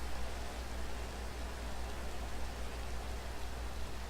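Steady broadband hiss of rain falling in Sky Factory 3, a Minecraft modpack, a continuous even wash with no speech, no breaks and no distinct drops.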